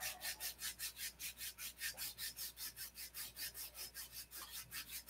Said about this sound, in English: I'm just sanding this spinner.